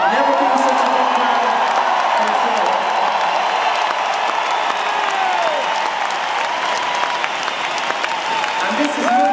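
A record stadium crowd at a concert in Vienna's Ernst Happel Stadion roars with sustained applause and cheering, a dense, continuous wash of clapping, whoops and shouts at full volume from start to finish.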